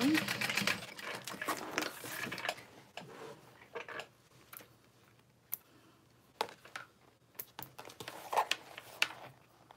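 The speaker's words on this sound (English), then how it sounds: "I'm just going to sew all the way down." A sewing machine stitches a seam down a custom backpack, starting with a short burst of running and then giving way to scattered ticks, clicks and taps of fabric handling, fairly faint and close.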